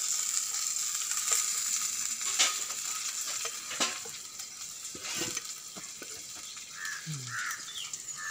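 Pomfret fish fry in a pan in a Malvani-style kitchen, giving a steady hiss of sizzling oil. Occasional scrapes and clinks of turning the fish come through close by.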